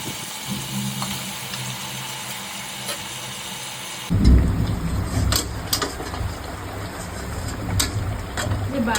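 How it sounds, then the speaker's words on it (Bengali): Steady rain falls outside with a dense, even hiss, and a heavier low rumble of thunder swells in about halfway through and lingers under the downpour. "বাইরে বৃষ্টি পড়ছে"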